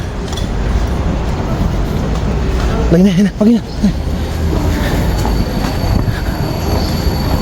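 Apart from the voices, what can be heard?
train arriving at station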